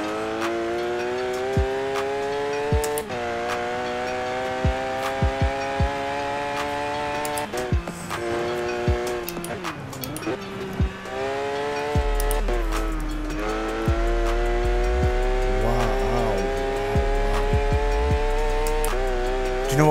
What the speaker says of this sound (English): You can hear more of the engine.